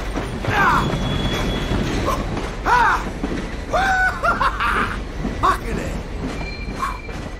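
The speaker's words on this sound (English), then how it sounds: "Let's hop the train!" A train in the video game GTA 5 rumbles and clanks along with metallic squeals and screeches recurring throughout, while voices talk and shout over it.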